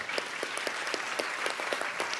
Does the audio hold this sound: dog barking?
no